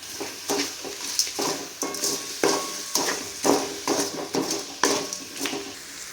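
Beaten eggs are stirred in a hot pan for homemade fried rice, giving a steady run of scraping, tapping spatula strokes against the pan over a soft sizzle, close and fairly even in rhythm.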